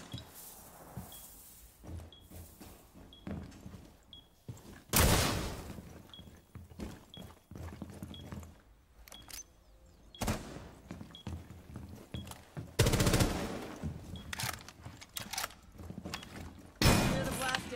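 Breaching charges detonate amid bursts of gunfire, several loud broadband blasts spread across the stretch with quieter crackling shots and faint voices between them.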